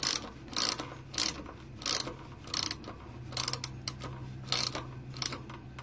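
A torque wrench ratchets in short, repeated clicking bursts while tightening the brake caliper bolts on a 2018 RadRover electric fat bike, close and fairly loud with brief pauses between strokes.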